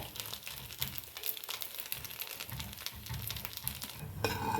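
Appam batter or ingredients roasting in a pan with steady close sizzling and frying crackle, joined by scraping and stirring strokes throughout, with no talking.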